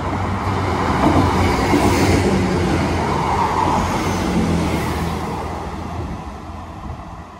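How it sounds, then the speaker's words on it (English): A Class 507 electric train pulls away from a station platform toward Southport, a loud, steady rumble and whine that swells early and slowly fades as it departs, with no talk over it. "Train now departing is a 507 to Southport"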